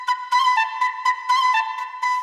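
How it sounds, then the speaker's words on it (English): A chopped Eastern flute sample from the 0G Eastern Flute Bank, cut into short rhythmic stabs and held notes that repeat in a choppy pattern, loud and solo. "So this flute did come from the 0G Eastern Flute Bank."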